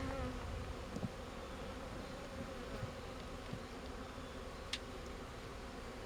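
Honey bees buzz steadily as a nucleus colony is settled into its hive, a soft, even drone with a few brief, louder passes close by.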